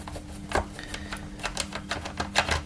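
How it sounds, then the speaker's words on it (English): Number 15 Torx driver working screws out of a Dyson DC08 radix assembly, giving a series of sharp, irregular clicks and ratcheting ticks, close and fairly quiet over a low steady hum. "I'm using a number 15 Torx driver."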